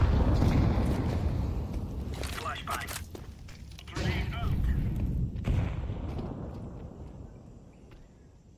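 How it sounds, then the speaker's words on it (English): Flashbang grenade going off in Counter-Strike 2 amid close gunfire bursts, followed by a thin high ringing tone that lingers as the noise fades, with players' voices talking over the game audio. "Flashbang."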